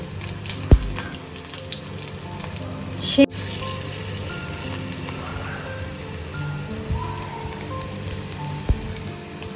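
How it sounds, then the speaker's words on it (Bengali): Steady crackling sizzle of fritters frying in hot oil, continuous throughout, with a few sharp clicks and knocks. "বড়া টড়াগুলো দারুণ ভাজা আমি দেখাচ্ছি দেখো"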